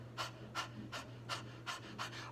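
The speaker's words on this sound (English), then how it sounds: "it's called the breath of fire" Forceful rhythmic panting from a breath of fire breathing exercise, six or seven sharp close exhales at a steady quick pace over a low hum.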